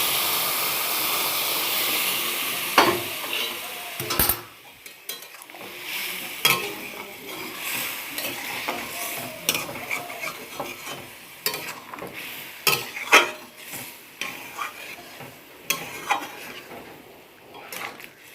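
Hot water poured onto frying spice masala for an elephant foot yam and potato curry with prawns bursts into a loud sizzle, which then fades under repeated close clatters of stirring in the pan.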